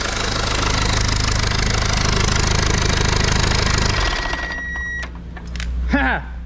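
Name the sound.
diesel backhoe engine running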